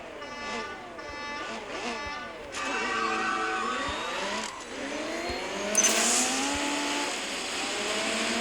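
A race car engine at full throttle in the mobile game CSR2, with repeated revving climbs through the gears and sweeping pitch shifts, loud and continuous with a sharp burst near the end.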